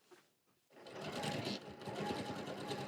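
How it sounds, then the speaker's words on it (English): Sewing machine stitching an apron pocket, starting after a brief quiet pause and then running as a steady rapid mechanical whir close by for about two seconds. "let's just get one of those sewn"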